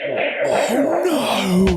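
A cartoon sneeze from an animated comedy: a brief voiced, whistly build-up whose pitch wavers and rises, ending in a short sharp burst, loud and close with nothing else around it.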